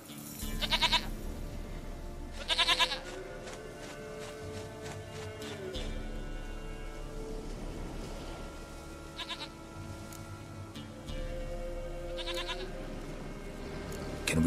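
A goat in The Witcher 3 video game bleats repeatedly in short bursts, set against low game ambience and background music.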